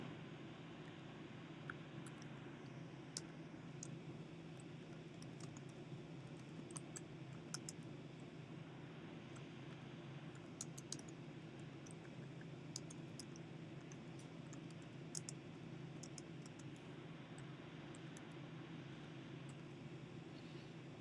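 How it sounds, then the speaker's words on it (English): Someone types on a computer keyboard while redeeming a ticket in ticket clerk software, producing faint, scattered key clicks over a steady low electrical hum, with no speech. "the typing of the keys"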